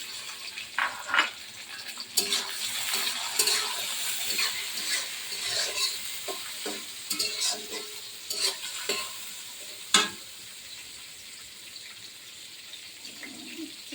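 Prawns stirred and fried in a pan, a gentle sizzle under repeated scraping and clinking stir strokes, close and moderately quiet, with a watery hiss in the background.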